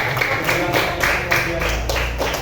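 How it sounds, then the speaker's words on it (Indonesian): A classroom of students claps hands after a presentation, a steady, rhythmic patter of clapping with a voice speaking over it. "tepuk tangan semuanya"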